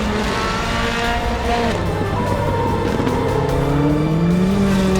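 Rallycross race cars at GRC Daytona roar together in a close, loud, continuous drone, engines revving and shifting pitch as the pack pushes on.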